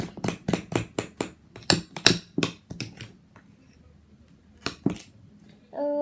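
Metal utensil clacking and scraping against a bowl while mixing XXL slime, a quick run of sharp knocks followed by quieter pauses and a couple of final taps.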